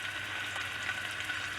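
Onions frying in a hot pan, giving a faint, steady sizzle with soft crackles.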